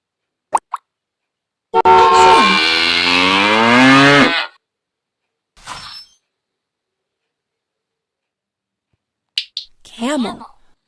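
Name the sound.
cow mooing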